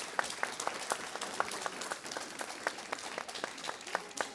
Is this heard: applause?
yes